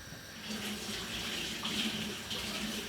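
Tap water runs over spring onions being washed in a kitchen, a quiet steady splashing stream with soft fluctuations, heard alone without talk.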